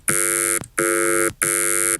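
A bright synth tone squashed by an OTT multiband compressor sounds in three sustained bursts with short gaps between, buzzy and loud like an alarm.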